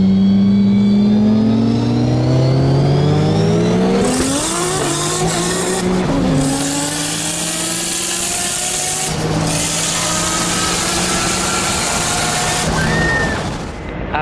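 A Toyota 86 street car roll-racing a Formula One car, engines screaming at high revs with rising and falling pitch as gears change, loud and close throughout, the whine climbing repeatedly before easing near the end.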